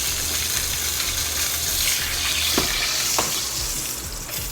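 Sausage and eggs sizzle steadily in a frying pan, a loud continuous close-up hiss and crackle with a couple of brief clinks partway through and no talking.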